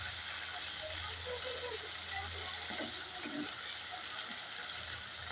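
Baim fish, a type of eel, fries in a pan with a steady, even hiss and sizzle of hot oil. It is constant and fairly close, with faint muffled background noise and no talk.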